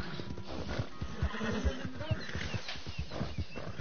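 Horse in Red Dead Redemption 2 neighing amid a steady run of hoof clops, the galloping beats and whinny fairly close and layered over game background noise.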